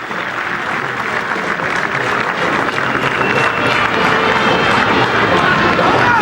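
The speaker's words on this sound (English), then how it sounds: "So applause for Varane," Stadium crowd at a rugby match between Italy A and Georgia applauds steadily for a departing player, a loud continuous wash of clapping and cheering with a faint murmur of voices mixed in.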